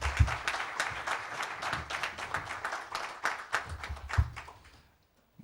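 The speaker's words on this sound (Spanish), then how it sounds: "Y ahora sí que les pido un fuerte aplauso para él." Audience applause at a book presentation, a room of hands clapping with distinct sharp claps standing out, moderately loud and fairly near, then fading out toward the end.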